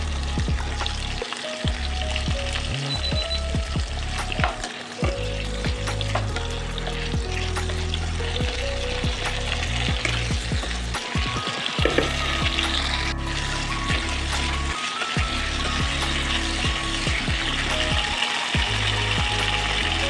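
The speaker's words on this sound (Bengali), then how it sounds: "এরপর দিয়ে দেবো লম্বা লম্বা করে কাটা আলু সেগুলো পটলের সাথেই ভেজে নেব" Potato strips and pointed gourd fry in hot oil, giving a steady, loud sizzle with repeated stirring scrapes and occasional clatter throughout.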